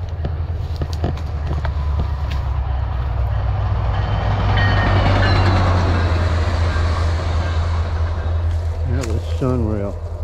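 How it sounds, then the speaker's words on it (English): A train rumbles past up close on a railroad siding south of DeLand, Florida, a heavy low roar with rhythmic clacking and squealing wheels that swells mid-clip and then eases off. "Here comes another train."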